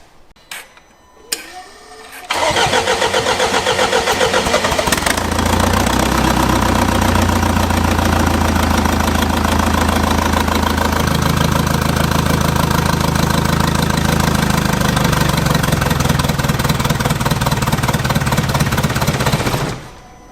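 A Jaguar XF engine cranks a few times, catches and settles into a loud, steady, slightly knocking idle that runs for about fifteen seconds before cutting out.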